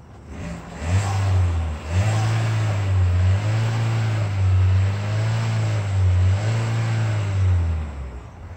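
A Chevrolet, either a Cruze or an Aveo, whose engine recently stuttered and shut off, revving loudly and steadily with a low droning pulse that rises and falls in a few surges, close up with no talking.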